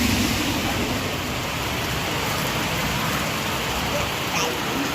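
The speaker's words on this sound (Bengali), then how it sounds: "আর ঝমঝমিয়ে বৃষ্টি হচ্ছে বাইরে।" Heavy rain pours down outside in a steady, loud, unbroken roar of drops hitting surfaces, constant for the whole stretch and with no talk.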